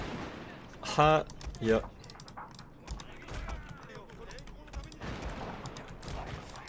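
Gunners firing in a Total War: Shogun 2 tournament battle: scattered musket-like cracks and pops under game noise, while a voice calls out briefly and laughs near the start.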